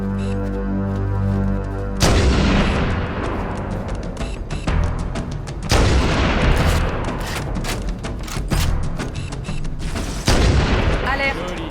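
Gunfire erupts in a Halo: Combat Evolved Anniversary battle against the Covenant, with repeated loud bursts and booming shots, sharp rapid fire, and heavy impacts in clusters over a background hum.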